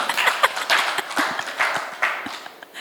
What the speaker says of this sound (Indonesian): Gak apa-apa kalau mau tepuk tangan buat kemuliaan Tuhan.